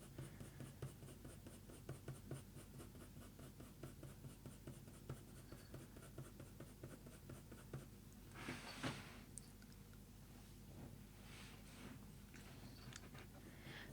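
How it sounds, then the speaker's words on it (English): Colored pencils, brown and dark sepia, blend over paper while drawing a leopard eye, giving a faint, close, steady scratching in quick repeated strokes, heard alone and uninterrupted. "So just alternate between your brown pencils and your dark sepia, just blend everything out, tone everything up where necessary."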